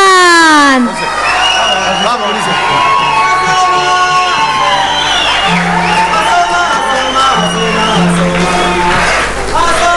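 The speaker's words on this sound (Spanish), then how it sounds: "¡Arriba ese aplauso!" A crowd cheers, whoops and shouts loudly and continuously for a murga troupe, a dense roar of voices with rising yells throughout, carrying strong and close.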